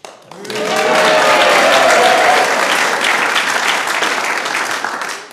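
A concert audience at a live Christmas concert breaks into loud, sustained applause, dense clapping swelling quickly and holding steady for several seconds before tapering off, with a voice briefly heard at the start.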